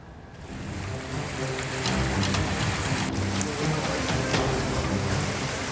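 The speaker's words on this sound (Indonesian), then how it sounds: "Luapan sungai kembali merendam pemukiman warga hingga membuat warga panik." Overflowing floodwater from a swollen river in Pidie Jaya, Aceh, pours through a residential area as a dense, continuous roar of rushing water that grows slightly louder after the first second, with no voices.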